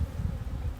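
Honeybees hum in an opened 4-H beekeeping hive, a steady low buzzing drone held close and fairly quiet throughout, with a brief higher rustle near the end.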